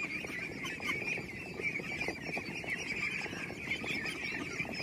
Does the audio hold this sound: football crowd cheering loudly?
no